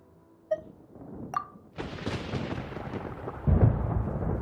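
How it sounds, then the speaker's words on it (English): Thunder in the video game Genshin Impact: a couple of faint tonal blips, then a broad rolling rumble builds and swells louder toward the end. "Paimon hears thunder!"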